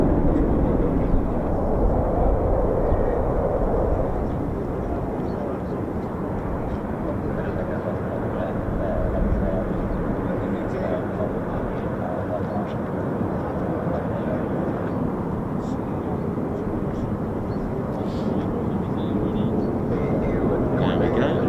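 A US Air Force fighter jet of the 48th Fighter Wing arrives at RAF Lakenheath, its broad engine roar loud and sustained at a nearly constant level for the whole stretch.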